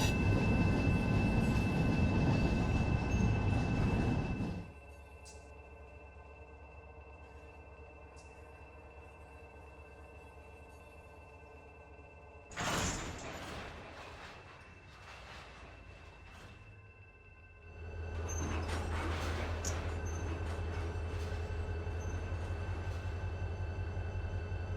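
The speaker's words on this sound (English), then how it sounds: "And now that I have recoupled to our train," A freight train in the Run 8 Train Simulator game on the Arvin Branch near Bakersfield rumbles loudly at the start, then drops to a quiet idle with a brief clank and later returns to a steady drone.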